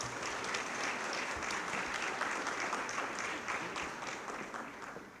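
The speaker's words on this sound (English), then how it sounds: "Let's have one more round of applause for both of our awardees." A room full of people claps steadily, sustained applause that tapers slightly toward the end.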